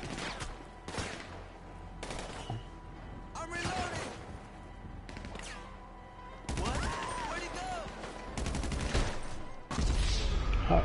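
Gunfire in GTA 5 on PS4, with several separate bursts of shots and loud cracks over about ten seconds, mixed with game background noise and growing louder toward the end.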